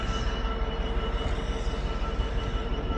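A train rumbling steadily along the rails close by, a dense continuous roar of wheels and carriages with no voices over it.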